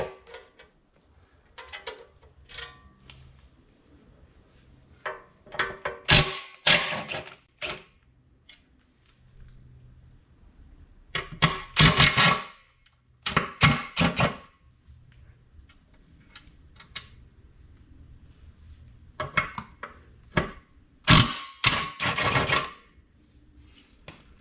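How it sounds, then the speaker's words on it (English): Wrenching, scraping and clunking as the oil pan is worked loose from a Saab 9-3 Viggen engine: irregular clusters of close metallic clicks, creaks and rasps separated by quiet pauses, with no talk. "So I'm gonna get the oil pan down finally."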